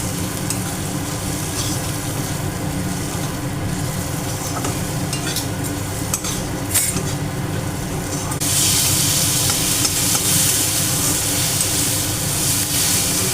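Tomato masala with turmeric, cumin and coriander powder cooks in a pan for ridge gourd moong dal, a dense continuous sizzle under steady stirring that swells louder and brighter partway through.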